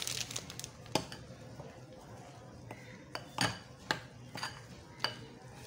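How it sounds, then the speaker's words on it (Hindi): A spoon stirs cocoa powder into chocolate brownie batter in a bowl. It makes soft, irregular clinks and scrapes, some sharper taps against the bowl, all near and fairly quiet with no speech. "पहले हम इसे स्पून की मदद से मिक्स कर लेंगे मशीन यूज़ करने से पहले"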